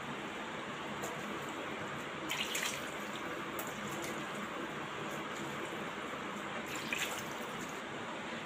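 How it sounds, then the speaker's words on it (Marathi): Cold water runs steadily over boiled noodles in a strainer while making restaurant-style Chinese bhel, a continuous close splashing hiss with no talk. "म्हणजे थंड पाणी त्याच्यावर घालणार आहे जेणेकरून ते चिकट होणार नाही"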